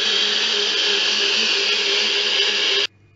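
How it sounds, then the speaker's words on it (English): A blender whirring loudly and steadily up close as it blends a homemade kiwi ice cream mix, a constant high-pitched motor roar that cuts off abruptly near the end, leaving quiet. "And now blending time."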